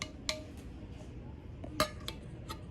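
Warm metal canning lids picked up and set on glass jars, a few faint, sharp metallic clinks and taps spaced irregularly in a quiet kitchen.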